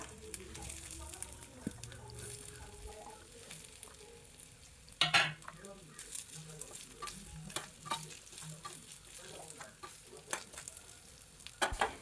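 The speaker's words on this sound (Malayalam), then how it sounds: "ഇനി ബാക്കിയുള്ള കിഴങ്ങും കൂടെ ഫ്രൈ ചെയ്തെടുക്കാം." Potato pieces frying in oil for a Kerala-style prawn and potato roast, with a steady sizzle and occasional stirring scrapes, plus a sharp clatter midway and faint background voices.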